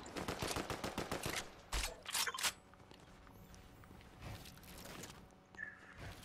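Sniper and other gunfire in Fortnite, with rapid bursts of shots early, a few louder cracks in the middle, and quieter game sounds afterward.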